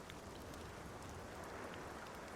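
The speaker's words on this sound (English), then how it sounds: "Dandelion, you're standing in the rain with your instrument." Steady, faint rainfall in the video game The Witcher 2, an even wash of drops hissing on surfaces with no pauses and no voices over it.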